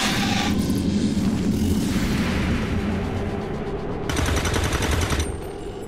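Sniper rifle fire in XCOM 2, heard as loud, dense game combat noise throughout, with a sharper burst near the end.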